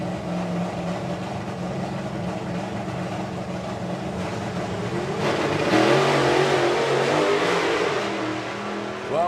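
A drag racing car accelerates hard down the strip at a power festival, its engine roaring loud and steady, rising in pitch and intensity as it nears, with crowd and ambient noise beneath.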